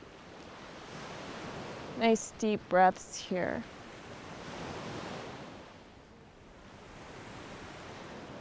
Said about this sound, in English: The waves are getting a little hypnotic.